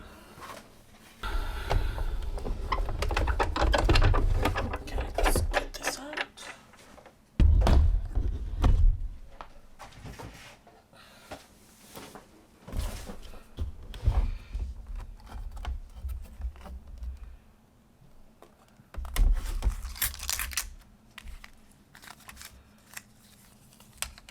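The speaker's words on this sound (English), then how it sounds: "I've gotten out a few of my crosses and butterfly dies, and I'm just going to die cut these." A die cutting machine cuts cross and butterfly dies from contact shelf liner paper, with long rumbling passes of rolling and pressing, separate bursts of grinding and crinkling paper, and short thuds between runs, all close and fairly loud.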